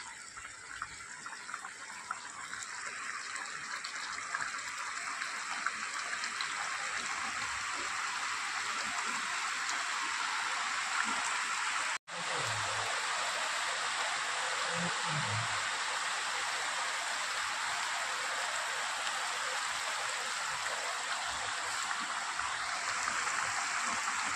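Mustard-based aila fish tel jhal simmers in a pan, giving a steady, fairly loud bubbling hiss that runs unbroken apart from one brief dropout, with no talking.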